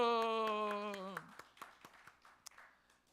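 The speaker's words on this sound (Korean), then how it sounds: "박수" At a church worship service, a sustained voiced tone breaks off into a quick run of sharp, rhythmic hand claps from a small congregation, fairly close and steady.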